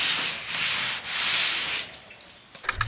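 Orbital sander working over the dirty back of a 1940s Art Deco sideboard, a close, loud hissing rasp in long strokes that drops off near the end, followed by a few scraping knocks.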